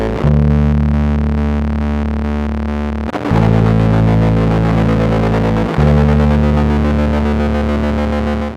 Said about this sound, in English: a back and forth pitch shifting kind of thing, or a mode that's just really unstable.